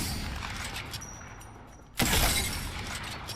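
A single loud Sentinel sniper rifle shot from Apex Legends cracks out sharply mid-clip, its broad burst ringing on after low game ambience.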